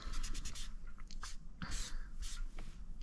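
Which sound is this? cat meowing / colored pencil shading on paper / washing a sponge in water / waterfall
colored pencil shading on paper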